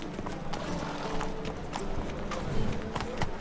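Hooves of Roach, Geralt's horse in The Witcher 3: Wild Hunt, clip-clop in a steady, close trot, with a brief whinny-like tone over a continuous outdoor game ambience.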